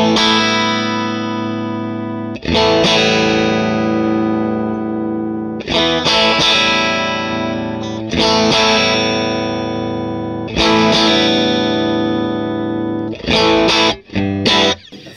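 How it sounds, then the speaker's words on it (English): A Stratocaster electric guitar played through channel 2 of a Matchless amp into a mic'd cabinet gives distorted strummed chords that ring out and decay, repeated several times with short pauses between. "So this is now the Strat in position 2 with the matchless in channel 2."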